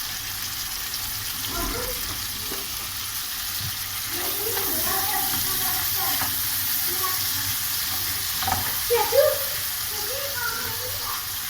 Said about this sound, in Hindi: अब इसी घी में हमने प्याज शामिल करना।